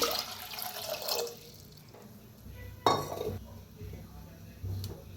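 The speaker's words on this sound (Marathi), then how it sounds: "तर पाणी ओतूया" Water splashes and pours into a pot for boiling sweet potatoes amid kitchen clatter, with a metallic clink partway through and a voice talking faintly.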